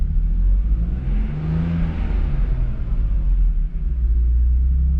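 A BMW Z3 engine, just revived after electrical repairs, revs up and settles back, a close deep rumble swelling into a brief whirring climb before easing to idle again, loud and continuous.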